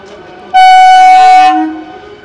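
An AC local train on the Bongaon–Sealdah line pulls into platform 4 at Ranaghat from the car shed. It sounds one loud, sustained horn blast lasting about a second, close by, over a low rail rumble that fades afterward.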